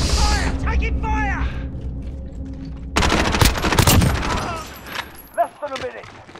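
Gunfire in a video game, with a dense rapid burst of shots that swells midway and then trails off into scattered reports, while voices talk over it.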